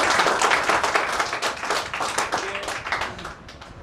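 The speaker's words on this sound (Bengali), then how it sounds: "জোরে হাততালি দিতে" An audience at a training session claps loudly for themselves, a thick, continuous wash of many hands that stays strong and fades slightly toward the end.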